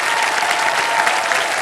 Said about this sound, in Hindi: तालियां बजती रहे देवी सजो इनके लिए।